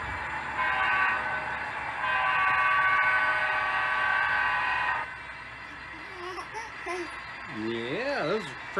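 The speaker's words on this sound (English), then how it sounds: "Yeah, those are trains, huh?" Passing train rumbling with a steady rolling roar and a horn-like tone, then receding; a voice and adult talk are heard nearby.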